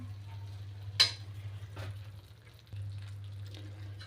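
A ladle stirs gram flour (besan) for barfi in a pan, giving soft, faint scraping and sizzling strokes with one sharper clink, over a steady low background hum, no speech.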